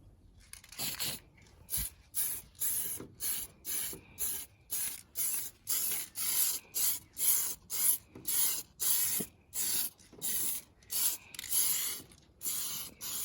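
A spray can paints a Baja 5T RC car body in short, regular hissing bursts, about one per second, each separated by brief silence, close and fairly loud with no voices.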